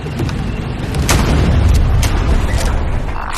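Pump-action shotgun blasts in the shooter game Forefront: several loud, booming shots ring out over dense, continuous battle noise, with the blasts spaced about a second apart.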